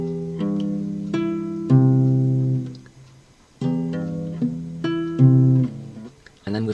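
A guitar plays a melody over plucked chord triplets in the bass, clear sustained notes in two phrases separated by a brief pause, close and solo.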